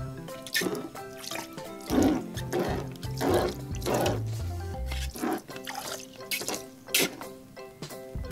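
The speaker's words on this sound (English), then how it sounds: "Let's have Donald Duck shoot some water out." A Donald Duck toy squirts water, giving irregular drips, trickles and small splashes over several seconds, fairly quiet, mixed with soft tonal toy sounds.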